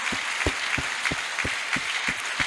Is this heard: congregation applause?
yes